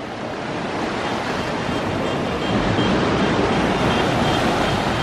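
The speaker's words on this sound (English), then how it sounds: "Love the sound of the waves." Ocean surf washing onto the beach at Grand Turk in the Turks and Caicos, a steady, full roar of breaking waves with wind rush on the microphone, swelling slightly louder midway, no voices.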